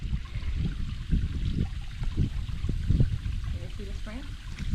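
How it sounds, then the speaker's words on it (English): Natural spring water running out of a rock fissure at a park by Clear Creek Lake, a continuous close-up trickle and gurgle with soft splashes, with some faint voices around. "There's got to be a spring through this whole crack, this fissure, and it's coming out through the rock there."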